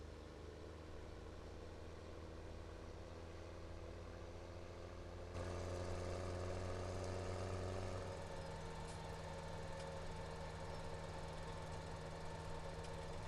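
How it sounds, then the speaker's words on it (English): A combine harvester engine idles at a steady low drone with a faint knocking pulse, then steps up to a louder, fuller hum partway through, continuous and close with no voices. "This engine is so quiet when it first starts up"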